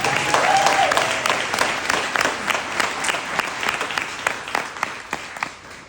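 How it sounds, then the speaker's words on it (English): An audience at a 20th anniversary celebration claps together, loud and full at first, then gradually thinning into scattered, fading claps. "Can we give them a round of applause?"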